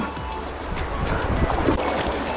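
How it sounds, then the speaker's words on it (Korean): A dense, continuous rush of a waterfall in a mountain valley near Jangyusa temple, Gimhae, roars steadily throughout, loud and close. "와, 저 폭포 봐라."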